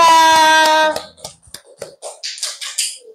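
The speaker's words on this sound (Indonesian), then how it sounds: "beri tepuk tangan untuk Akila" Children in an elementary classroom clap for a classmate after a tonal sound cuts off, scattered sharp claps at first, then a quicker cluster of claps near the end.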